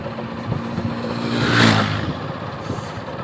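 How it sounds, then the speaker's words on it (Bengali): A motorcycle ridden toward Mandarmani sea beach, its steady engine drone rising briefly as it accelerates midway, then settling back into a constant close hum with wind. "তার জন্য এখন দেখালাম যে বাইক নিয়ে এখন যাচ্ছি।"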